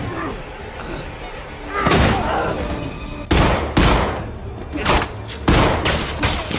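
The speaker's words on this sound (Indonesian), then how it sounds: "Terjadi tembak-tembakan di mana si pelaku akhirnya kalah karena kehabisan peluru." Gunfire erupts in a film shootout over a store robbery, several loud, sharp bursts of shots cracking in quick succession over a low background score.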